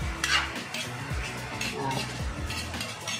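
A spoon scrapes and stirs through ginataang gabi, taro simmering in coconut milk in a pot, making steady, close wet stirring and scraping over a constant bubbling hiss.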